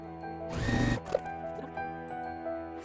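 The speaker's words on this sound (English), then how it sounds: "I am sewing at a scant 1/4 inch on the edge of my presser foot" Sewing machine stitching quilt fabric pieces right sides together at a scant quarter-inch seam, with a loud, dense burst of motor whir for about half a second, then quieter mechanical clicks and a steady hum.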